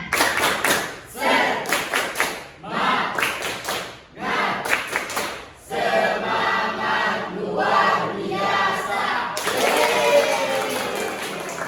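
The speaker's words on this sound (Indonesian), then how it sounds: "bagaimana kalau kita tepuk semangat dulu?" A school class performs the Indonesian 'tepuk semangat' clapping cheer during a biology lesson: bursts of rhythmic group claps and thumps, then sustained lively crowd noise as the students shout along.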